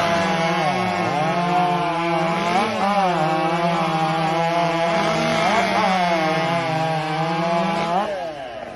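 A small chainsaw with a .325 chain on a 9-tooth rim cuts through wood at a competition sawfest, its loud, continuous high-pitched whine wavering as it bogs and recovers in the cut before easing off at the end.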